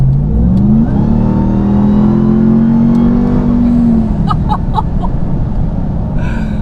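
A 702 hp Ram TRX pickup accelerating hard, its engine tone climbing and holding steady with a high supercharger whine on top, loud and close throughout.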